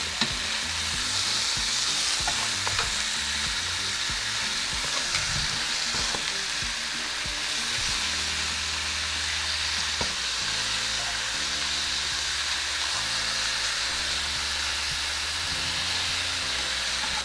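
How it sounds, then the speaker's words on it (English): Shredded beef sears in a hot pan with a steady, close sizzle and hiss that runs unbroken throughout, with soft low clatter underneath and no voices. "we're going to flip it over and sear the other side for another 2 minutes"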